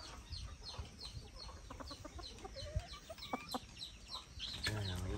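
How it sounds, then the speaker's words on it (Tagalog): Hens cluck softly in a scattered, irregular rhythm over faint outdoor background noise, with a louder call near the end. "May mga inahin pa oh."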